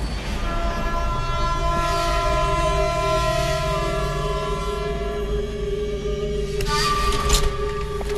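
A moving train rumbles steadily and loudly throughout, its sustained horn tones sounding over the rolling noise, with a brighter burst of rattling near the end.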